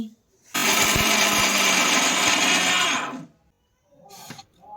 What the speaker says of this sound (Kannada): ಇದನ್ನು ಮಿಕ್ಸಿಗೆ ಹಿಡ್ಕೊಳ್ಳೋಣ ಹೀಗೆ ಹಿಡ್ಕೊಳ್ಳೋಣ